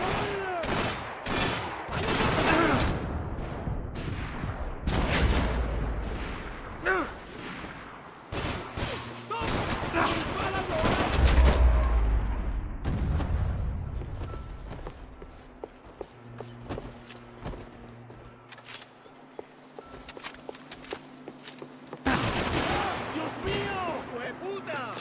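Gunfire from the video game Max Payne 3, with repeated sharp shots and bursts mixed with footsteps and action noise during the first half, then quieter background with occasional further shots; a voice talks in places.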